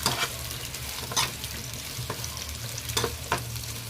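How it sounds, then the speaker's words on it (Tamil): Sliced raw banana sizzles steadily in oil in a wide pan while a utensil stirs it, giving close scraping strokes at irregular intervals over the constant frying hiss, with no talking. "இந்த மாதிரி கொஞ்சம் அகலமான பாத்திரமா எடுத்துக்கிட்டீங்கன்னா உங்களுக்கு ஃப்ரை பண்றதுக்கு நல்லா இருக்குங்க"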